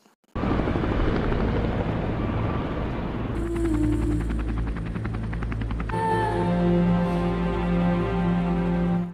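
A helicopter in the action film Special Forces roars loudly and continuously, with a steady whirring drone and rotor chop that shifts in pitch partway through, no talk over it.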